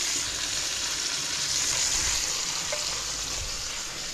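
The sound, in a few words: chicken skin frying in oil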